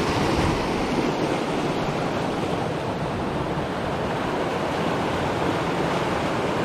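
Water in Meadow Run Creek at Deephole in Ohiopyle State Park rushes in a loud, continuous broadband wash, steady and close with no breaks or voices.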